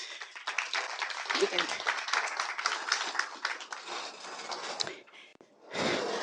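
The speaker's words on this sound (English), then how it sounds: "So another round of applause." Audience applause at a Black History Month youth leadership event, a broad steady clapping from a crowd that holds for several seconds, then thins and breaks off before a voice comes in.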